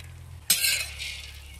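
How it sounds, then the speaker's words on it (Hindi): Makhana fox nuts roasting on low heat, a quiet pan followed by a sudden scrape and rustle of stirring that fades into a soft, dry hiss. "मखाने जो हैं वो भी हल्की आंच पे भूनना है।"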